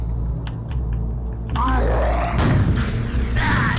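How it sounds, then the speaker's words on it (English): A homing rocket in a video game fires and then bursts in a loud, rumbling explosion near the end, over a steady bed of game noise and low rumble. "Very weak homing missile in comparison to some we've seen in the past."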